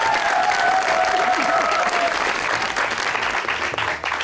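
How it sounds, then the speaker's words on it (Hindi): Studio audience at an Eid special television show claps in a dense, sustained burst of applause that tapers slightly at the end. "तुहाडीआं बहुत सारियां तालियां च फिल्म स्टार किशा"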